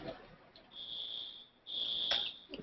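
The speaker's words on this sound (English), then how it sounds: "Fire alarm's going off." A building fire alarm sounds in two long, steady, high-pitched tones, the second louder than the first, with a short break between them and faint background noise.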